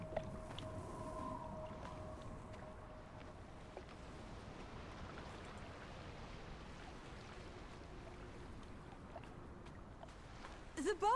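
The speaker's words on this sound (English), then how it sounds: "I hear water." Water laps and washes by the seashore in the video game Draugen, a soft, continuous low rush that stays faint and distant, with a brief knock near the end.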